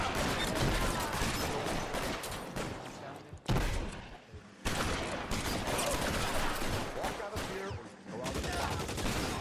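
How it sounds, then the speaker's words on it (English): Gunfire in the video game L.A. Noire, a dense fusillade of rapid shots in a shootout with officers, loud and sustained with a brief lull midway, with game voices talking over it. "decide to start shooting on these officers"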